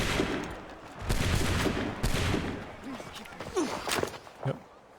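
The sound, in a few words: musket volley gunfire in video game Assassin's Creed 3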